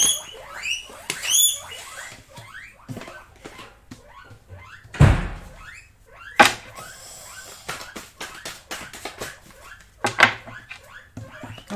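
Pet guinea pigs squeal and chirp in repeated short, sharp bursts, with pattering and a few thumps between the calls, close and fairly loud against a quiet room.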